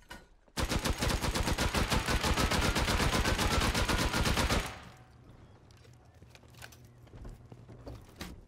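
Sustained automatic gunfire in Rust during a raid, a loud rapid continuous burst of about four seconds, then quieter ambient noise with faint distant clicks and sounds.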